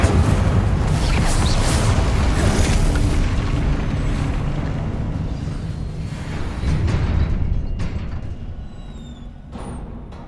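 Explosive Confringo spell blast in the Hogwarts Legacy video game, a loud rumbling boom that sustains and slowly fades over several seconds, with a second swell of crackling impact near the end.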